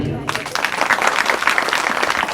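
Applause from listeners at a Bhagavat Katha religious discourse in a village gathering, a dense steady patter of many hands clapping that bursts in after a brief quiet start and holds loud for about two seconds.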